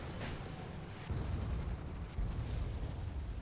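A Hwacha volley fired in an online community skirmish match, a dense rumbling barrage of blasts rolling in two surges, loud and continuous with no speech.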